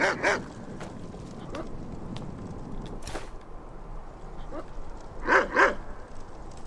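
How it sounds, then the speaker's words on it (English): Dogs bark in the Skyrim video game while wandering the Reach region: a few short barks spaced across the stretch, moderately loud amid wind and game ambience, with someone talking at times. "Is it me or can I hear more than one dog?"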